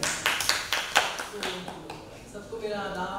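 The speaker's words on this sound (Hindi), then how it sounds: "तो जोरदार तालियों से स्वागत कीजिए दिव्या जी का" An audience at a literary society book reading welcomes the author with a short round of applause, a burst of close, sharp claps fading after about two seconds as a voice begins speaking.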